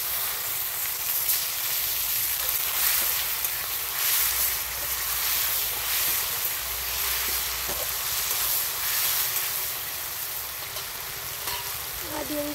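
Chopped tomatoes hit hot oil already spiced with kasuri methi and cumin for an egg curry, giving a strong, steady close sizzle and hiss that runs throughout, with a few light clinks from the pan.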